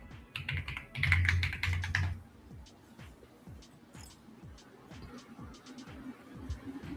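A computer keyboard is being typed on in a rapid, irregular clatter of keystrokes, with a louder burst near the start followed by steady tapping through the rest.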